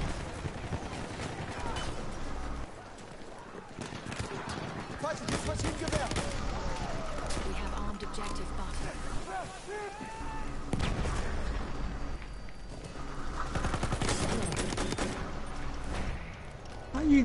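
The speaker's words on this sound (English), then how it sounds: "I'm gonna get a kill with this pistol." Rapid, bursty gunfire from a shooter video game, a pistol among the weapons, crackles through the whole stretch with scattered louder hits, while someone talks over the game sound.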